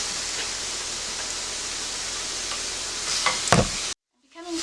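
Garlic sizzles in a pan for a Lebanese meatball sauce, a steady loud hiss with a few stirring scrapes near the end before it cuts to sudden silence and then resumes.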